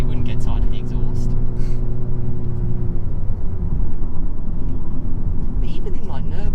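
A VW Golf MK8 GTI Clubsport 45 on the move gives off a low, rumbling exhaust drone that holds a steady tone and then settles, heard beneath a person talking inside the car.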